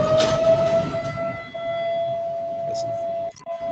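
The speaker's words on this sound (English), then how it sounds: "sirens in the background" A steady siren tone holds in the background under a low rumble of noise, continuous and fairly distant.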